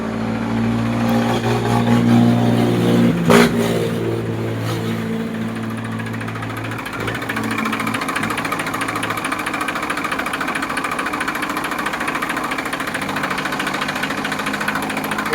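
A Massey 241 DI tractor engine runs with a steady, close, moderately loud diesel drone, its low throb unchanged for the whole stretch and nobody talking.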